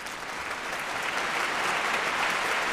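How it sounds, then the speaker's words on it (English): A crowd gives a dense, steady round of applause at a live show, the clapping holding loud and even and growing slightly stronger. "let's all give a round of applause, and let's hear it for Brad Rempel of Bodyliner"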